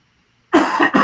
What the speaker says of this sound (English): My apologies. I'm still coughing over here.